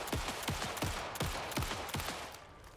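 Rapid gunfire from shooting a ghostly woman in Alan Wake 2, a run of sharp, punchy shots in an uneven rhythm, loud and close, with no talking.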